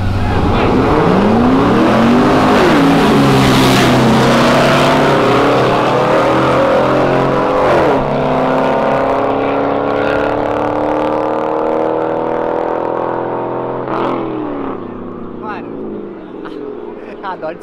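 A Dodge Ram pickup revs hard and does a burnout at a drag-racing event: a loud, close engine roar climbs and falls in repeated surges over squealing tires, with voices in the background before it fades.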